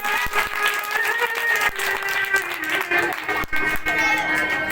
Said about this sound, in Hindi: जोरदार ताली कीजिए, ताली से स्वागत कीजिए अपने सीनियर विद्यार्थी को।